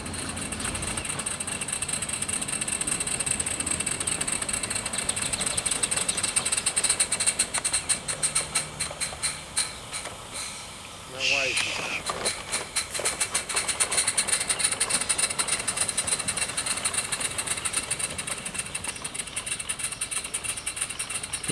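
A model locomotive with finely adjusted throttle runs steadily, a continuous mechanical hum and whir with a brief louder clatter midway, no talking.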